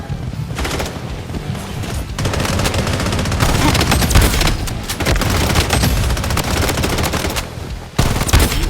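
Rapid, loud gunfire from an M700 Seraph sniper skin in a shooting video game, a dense barrage of repeated shots and booms running almost continuously, with a short break near the end.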